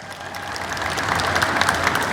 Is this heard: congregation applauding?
yes